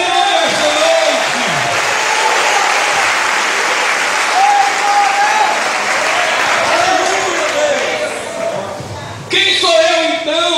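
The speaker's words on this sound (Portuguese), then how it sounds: "Aplauda esse nome esta noite." A church congregation applauds during a Sunday evening service, dense sustained clapping filling the space while a voice speaks and sings over it, with a brief surge near the end.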